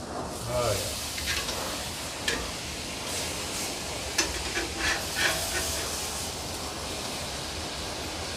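A ribeye steak sears in a hot pan, giving a steady hiss and sizzle that holds at an even, moderate level throughout, with a few soft pops and clicks and no talking.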